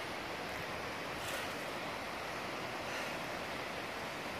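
Steady broadband rush of a river flowing beside a hiking trail in Damascus, Virginia, a constant close wash of water with no voices.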